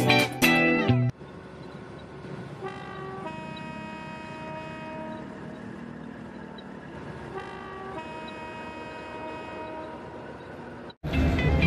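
A KiHa 183 diesel train arriving at Hua Lamphong station in Bangkok gives a loud horn blast, then several long steady tooting tones ring out over a low rumbling station din, with a louder burst of noise at the very end.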